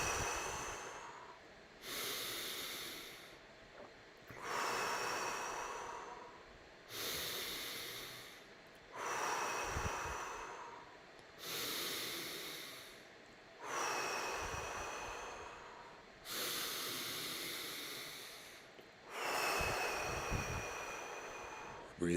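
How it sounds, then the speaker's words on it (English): Guided deep belly breathing: slow, long inhalations and exhalations repeating about every two and a half seconds, close and hissing, with brief pauses between each breath and no talking. "Breathe in, hold, and squeeze to the head."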